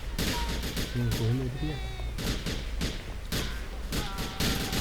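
Dense gunfire crackles in repeated bursts throughout a shootout in the video game GTA Vice City, loud and continuous, with someone talking over it.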